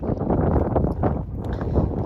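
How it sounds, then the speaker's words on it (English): Strong wind on a mountain peak, Little Baldpate Peak on the Appalachian Trail, buffets the microphone in heavy, rumbling gusts, loud and constant with no voices. "It's definitely really windy."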